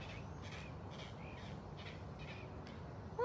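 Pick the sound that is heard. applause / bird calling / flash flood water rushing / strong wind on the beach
bird calling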